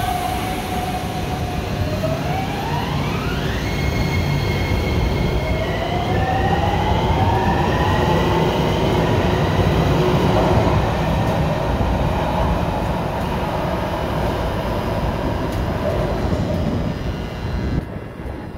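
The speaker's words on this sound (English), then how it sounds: "One more shot of the train leaving the station before we go." A Miami Metrorail train pulls out of the station: a steady loud rumble with rising electric motor whine tones that climb in pitch as it accelerates, continuous for about eighteen seconds with no talk.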